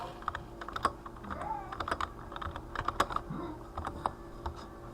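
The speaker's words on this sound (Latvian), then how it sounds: "Tagad mēs rakstam niku." Rapid typing on a computer keyboard as a nickname is entered, with irregular clusters of close, crisp key clicks and taps over a low background hum.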